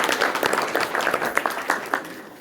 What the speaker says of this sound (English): Another round of applause for Ms. Renee.